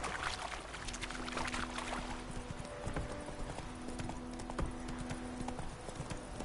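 Horse hooves clip-clop in a steady rhythm in The Witcher 3, carried along under game ambience and a low hum, fairly close and moderately loud throughout.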